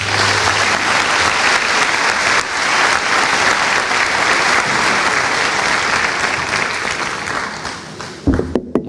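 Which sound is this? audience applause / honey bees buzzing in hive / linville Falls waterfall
audience applause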